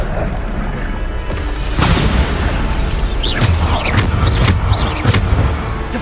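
Bombarda blasting spell explosions in Hogwarts Legacy, several crashing bursts and impacts in quick succession over dense, loud battle noise.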